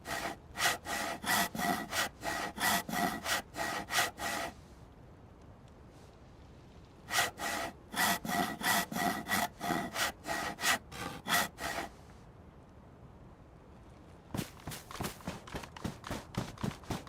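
Hacksaw cutting wood in the survival game DayZ, three bursts of rapid, rhythmic back-and-forth strokes separated by short pauses, close and fairly loud with no talking.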